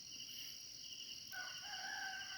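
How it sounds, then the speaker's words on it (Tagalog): A native chicken rooster crows faintly in a rural setting in Mindanao, the call drawn out over steady insect and cricket chirring, with no one talking. "kung maririnig nyo, tumitilawak yung manok bahay"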